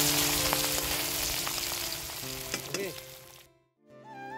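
A whole fish frying in hot oil at an outdoor jungle feast, a loud continuous sizzle with a few scattered pops and clinks that cuts off abruptly near the end.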